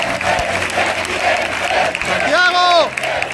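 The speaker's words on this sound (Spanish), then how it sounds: "Un fuerte aplauso para nuestro presidente, Santiago Abascal." A rally crowd at a VOX political event in Toledo gives Santiago Abascal loud, sustained applause, with a shrill whistle rising over the clapping near the end.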